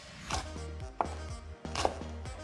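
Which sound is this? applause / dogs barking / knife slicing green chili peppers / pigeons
knife slicing green chili peppers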